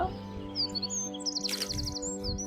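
A cute bird souvenir toy chirps in a run of high, bright tweets, close and fairly clear over a faint hum and light handling noise.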